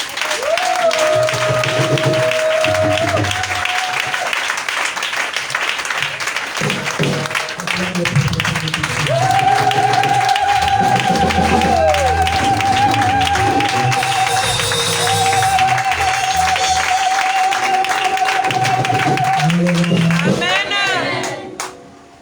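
A congregation at a church service claps and cheers in acclaim of God, a full, steady wash of applause with voices and singing woven through it, lasting the whole stretch before tapering off at the end.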